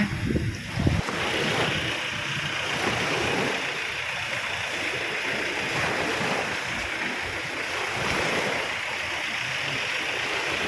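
Gentle sea waves wash onto Jomtien Beach in Pattaya, a soft continuous surf rush with mild wind noise, steady and fairly distant, with no one talking.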